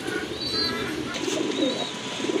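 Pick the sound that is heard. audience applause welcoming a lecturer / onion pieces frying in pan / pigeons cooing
pigeons cooing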